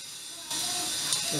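Fenugreek and mustard seeds hit hot oil for rasam, bursting into a sudden loud hiss of sizzling that continues steadily and close, with a brief spatter near the end.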